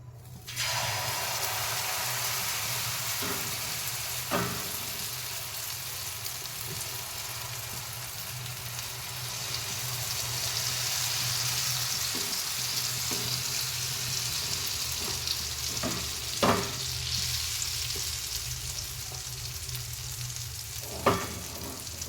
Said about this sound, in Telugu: ఆయిల్ అయితే బాగా హీట్ అయింది. చూడండి, ఆమ్లెట్ అయితే వేస్తున్నాను.